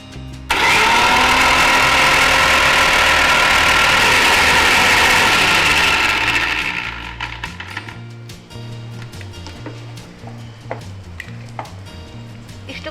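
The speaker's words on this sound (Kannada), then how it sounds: "ಇಷ್ಟು ಗ್ರೈಂಡಿಂಗ್ ಸಾಕಾಗುತ್ತಮ್ಮ?" A kitchen mixer grinder whirs loudly and steadily while grinding ingredients for tomato thokku, then cuts off after about six seconds, leaving quieter clinks and kitchen sounds.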